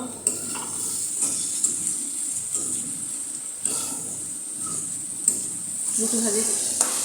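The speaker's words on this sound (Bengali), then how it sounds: "আর এখানে আলু ভাজি করতেছি রুটিতে খাওয়ার জন্য" Potatoes fry in a pan for a bhaji to eat with roti, giving a steady soft sizzle with occasional scrapes and clinks of stirring throughout, with no talk.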